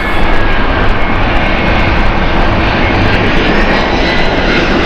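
An Air Transat jet airliner arriving at Gatwick: loud, steady engine roar close by, with a thin rising whine threading through the dense rumble and no voices.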